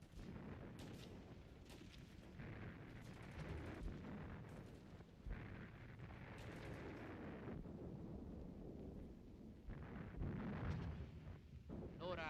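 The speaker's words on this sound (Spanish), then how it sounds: "Las líneas enemigas arden en llamas por las explosiones" Distant artillery booms and rumbles in repeated thuds over a noisy, wind-buffeted background, with a few sharper cracks of fire, during a battle in the Spanish Civil War.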